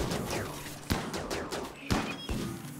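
Gunfire crackles in the colony-building video game Rimworld, a fusillade of several sharp shots at irregular intervals over steady background game sound.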